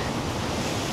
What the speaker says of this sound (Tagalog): sobrang lakas nga ng alon